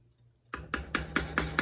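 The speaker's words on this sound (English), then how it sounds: "I just add small water," Water added to a pot of thick Deltan okro banga soup gives a quick series of six evenly spaced, wet glugging splashes, close and fairly quiet.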